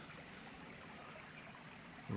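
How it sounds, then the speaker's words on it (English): A babbling brook beside a bench on the Bruce Trail, a very faint, steady trickle and rush of water with no voices, ending in a brief louder bump. "And a babbling brook."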